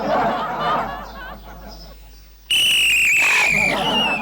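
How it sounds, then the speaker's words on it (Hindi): Whistle blown sharply and loudly by a society watchman, a sustained shrill tone cutting in after a stretch of voices and quieter sounds. "सीटी क्यों बजा रहा है?"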